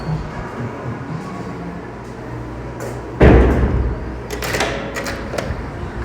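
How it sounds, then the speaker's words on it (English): Doors swing open and shut at a venue with a kitchen nearby as someone heads out toward valet parking, a sudden loud thud standing out mid-way against a steady background hum. "Go out the doors here."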